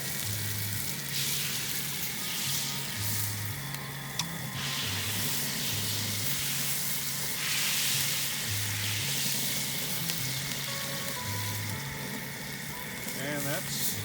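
Food sizzles and fries on a discada over high heat, a steady crackling hiss that runs for the whole stretch, with a low hum underneath and brief clinks near the end.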